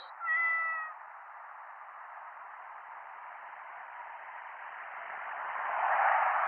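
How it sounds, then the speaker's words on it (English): A cat stuck up a tree at night in the game 911 Operator gives one short, clear meow near the start, followed by a steady static-like hiss that swells toward the end. "My cat climbed up a tree and can't go down"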